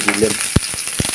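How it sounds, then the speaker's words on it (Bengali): Chopped onions hit hot oil in a pan for a spinach chorchori, giving a brief close sizzle with a few sharp crackling pops and stirring clicks. "পেঁয়াজ কুচি দিয়ে দিলাম।"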